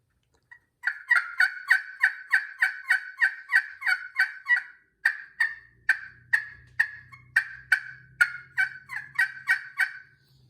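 A turkey-style game call sounding a long run of sharp, evenly spaced yelps, loud and close, with a brief pause midway and a low rumble underneath later.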